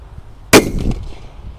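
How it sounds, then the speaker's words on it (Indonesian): A tongkat kera kaget firecracker bursts inside a metal kettle, a single sharp, loud bang with a metallic clang, followed by a brief rattling ring that dies away quickly. "Ini juga banter ya meledosnya. Kita nyalakan di dalam teko ya."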